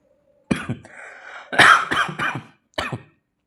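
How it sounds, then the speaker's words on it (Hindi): Several harsh coughs come close together at the start, then a longer rough coughing burst and one final cough, close and loud with no talking. "सॉरी पता नहीं क्यों इतनी खांसी आ रही है।"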